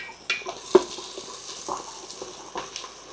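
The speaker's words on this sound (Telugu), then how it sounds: "ఉల్లిపాయలు బాగా వేగాలి, దీనికి చాలా బాగుంటుంది." Onions frying in a pan for a winter mutton shorba bone broth, a soft steady sizzle with occasional stirring scrapes and a sharp utensil knock, heard close and alone.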